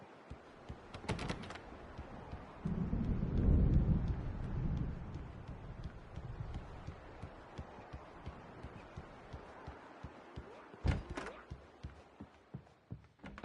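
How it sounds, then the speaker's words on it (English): Thunderstorm in the video game Alan Wake Remastered: a deep, rolling thunder rumble swells for a couple of seconds, then fades into a steady low storm wash, with a few sharp knocks before and after it. "The storm is almost here."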